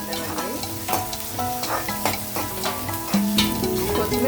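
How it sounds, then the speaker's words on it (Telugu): Onion, curry leaves and coriander frying in a pan, with a steady close sizzle broken by repeated sharp clinks and scrapes of a spoon stirring, no voices. "కరివేపాకు, కొత్తిమీర, ఉల్లిపాయ వేసాను. కొంచెం ఫ్రై అయిన తర్వాత బీన్స్ యాడ్ చేసేద్దామండి."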